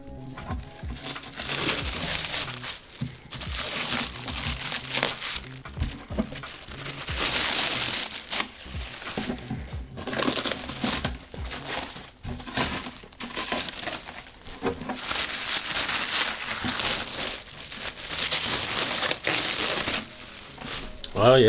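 Packaging for an Elegoo Mars 5 Ultra 3D printer crinkles and rustles in repeated bursts as it is handled. The sound is close and uneven, with short pauses between handfuls.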